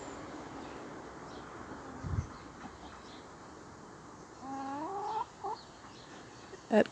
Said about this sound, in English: So I like having chickens in suburban Canberra.